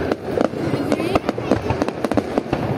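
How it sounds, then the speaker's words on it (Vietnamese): Đồng nọc firecrackers burst in a quick irregular string of sharp cracks during Lunar New Year festivities, steady and close, with a voice talking in the background. "Đây gọi là pháo đồng nọc."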